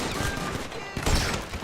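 Burst of rapid gunfire in Grand Theft Auto V, a dense fusillade of shots rattling continuously at moderate loudness with a heavier thump near the end.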